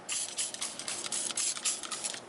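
All-purpose cleaner is sprayed onto a used car seat in a rapid series of about a dozen short, hissing trigger-spray bursts, close and fairly clear with no talking.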